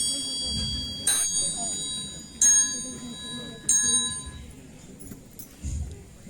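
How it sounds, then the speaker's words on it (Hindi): A church bell rings for prayer with three or four clear, bright strikes spaced about a second apart, each leaving a lingering metallic hum, over a low background murmur. "गिरजा की घंटी प्रार्थना करने के लिए बज रही है।"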